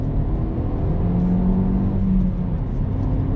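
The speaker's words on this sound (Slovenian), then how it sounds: "ampak še zmer ven spravi kar lep zvok" A Hyundai i30 N Line engine hums steadily at close range, its revs rising slightly and settling, with a low exhaust drone throughout.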